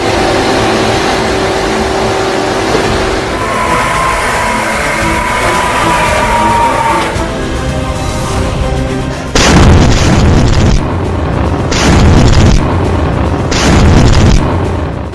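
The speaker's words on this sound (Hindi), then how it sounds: "ये है हिजबुल्लाह की क्रूज मिसाइल।" Hezbollah cruise missile launched at Israel: a steady engine-like roar builds, then a loud ignition blast gives way to a series of heavy rhythmic bursts, close and powerful.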